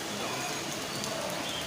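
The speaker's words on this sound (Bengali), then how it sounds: "বৃষ্টি পড়তেছে" Heavy rain falls during a sudden afternoon Kalbaishakhi storm, making a dense, even hiss of drops that fills the whole moment at moderate loudness.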